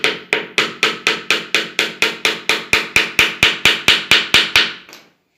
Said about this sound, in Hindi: फिर आपको नेक्स्ट कील गाड़नी है इसी तरह।